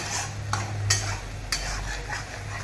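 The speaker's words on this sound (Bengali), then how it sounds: "তারপর এটা একটু নাড়াচাড়া করে নিলাম" A utensil stirs ingredients in a pan while cooking Bengali sada shukto, making soft, faint scraping strokes with a few sharper clicks against the pan over a low background hum.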